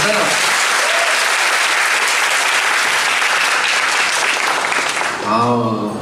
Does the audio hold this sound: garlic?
no